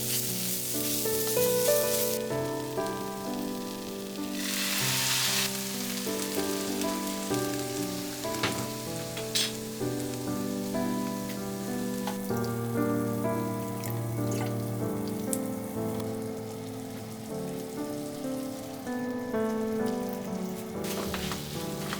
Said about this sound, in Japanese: 食感が少し残るくらいに炒めましょう。